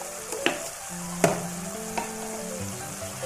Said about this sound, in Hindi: 2 से 3 मिनट में मसाले की भुनाई करूँगी